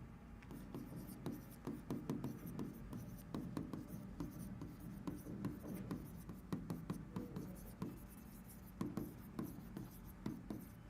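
Hand writing on a board in a classroom setting: a steady run of short scratchy strokes and taps, close and fairly quiet, continuing alone with no talk.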